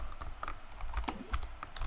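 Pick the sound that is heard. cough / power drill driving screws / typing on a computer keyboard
typing on a computer keyboard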